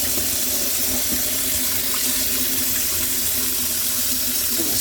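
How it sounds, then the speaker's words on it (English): Steady rushing tap water pouring into a basin while an old flower vase is rinsed, a continuous loud splashing wash with no pauses. "I'm going to just give it a little rinse anyway"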